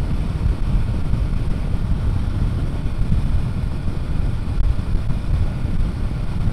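A Royal Enfield Himalayan 450 motorcycle cruising smoothly in sixth gear gives a steady low engine drone buried under heavy, constant wind rush across the microphone, loud and unbroken throughout.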